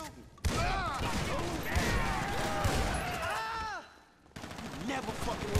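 Gunfire in Grand Theft Auto V crackles in dense bursts under loud, overlapping shouting voices, then drops off briefly before more shots and voices return.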